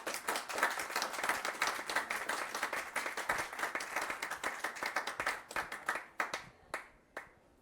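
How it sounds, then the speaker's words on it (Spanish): Audience applause at a panel on sustainable development in Latin America: dense, sustained clapping from a crowd that thins out into a few scattered, separate claps at the end. "aplausos efusivos dos que estão aqui presentes"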